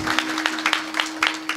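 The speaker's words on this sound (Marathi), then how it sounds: "एकदा गायकांसाठी जोरदार टाळ्या झाल्या पाहिजे" A short burst of audience clapping for the singers at a comedy kirtan, with uneven, moderately loud hand claps over a low steady hum.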